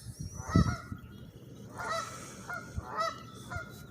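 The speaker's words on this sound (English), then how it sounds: "Got all the Canadian geese down here talking to us." Canada geese honk loudly nearby at a campground, a few separate nasal calls spaced out over a few seconds against faint outdoor background noise.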